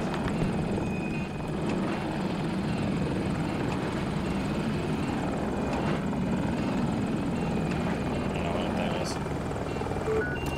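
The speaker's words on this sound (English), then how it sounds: "I got a chopper up." Attack helicopter in Battlefield 2042, likely a KA-520 Super Hokum, roars steadily and loud for the whole stretch, with rotor and engine noise dense throughout and occasional gunfire or clanks layered on top.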